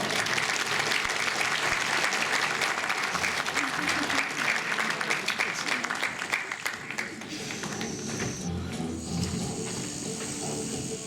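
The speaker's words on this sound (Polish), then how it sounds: "Proszę o brawa." Audience applause at a medieval knight fighting tournament, a loud sustained burst of crowd clapping filling the scene, with an announcer's voice over it.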